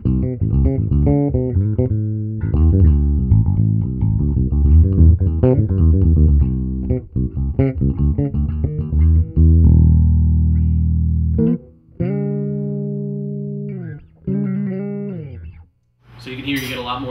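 Warwick Streamer bass played through an Apollo tube amp head in half pad mode: loud, sustained, lightly distorted notes and chords, with plucked phrases, a held ringing note and short pauses.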